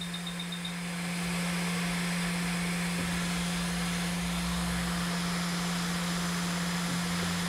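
Hot air soldering station blowing steadily while soldering, its temperature being raised, a continuous loud fan-driven hiss with a steady low hum throughout, no talking.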